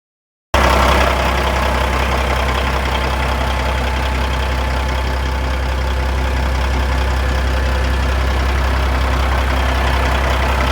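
A Kenworth W900 truck with a Cat 6NZ engine idles close by, a loud, steady low diesel rumble with an even throbbing pulse, running without pause and no voices over it.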